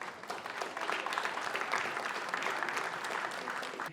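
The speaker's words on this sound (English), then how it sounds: "I want you all to start by thanking each other with a round of applause for being here." A full-house audience at a union-sponsored empowerment event claps together in sustained, even applause that holds steady for several seconds at a moderate distance.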